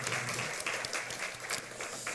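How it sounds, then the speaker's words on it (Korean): Congregation clapping during a Sunday morning church service, a steady dense wash of applause running throughout without a break, moderately loud and even. "우리 찬송 가운데 임하신 하나님께 감사와 영광의 박수 올려드리겠습니다"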